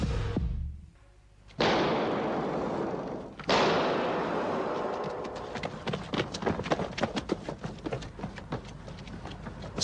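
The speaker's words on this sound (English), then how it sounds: "Two gunshots have been fired." Two sharp, loud gunshot blasts a couple of seconds apart, each with a rolling echo, followed by hurried clattering footsteps, on Sveavägen street in Stockholm.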